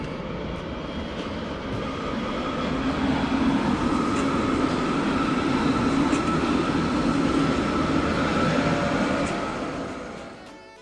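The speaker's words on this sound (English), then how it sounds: "And here he goes up to Jungfrau. Yeah, by train." Train climbing toward the Jungfrau in Switzerland, a steady rumbling drone with wheel and track noise that swells, holds and then fades near the end.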